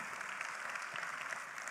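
Steady, dense audience applause for Riway International fills a seminar hall, a continuous wash of many hands clapping at even loudness throughout.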